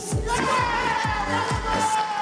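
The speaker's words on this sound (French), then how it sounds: "Bravo, on les applaudit." An audience at an improvised theatre show cheers and claps, a crowd noise with rhythmic low thumps and shouts from the room under a steady tone.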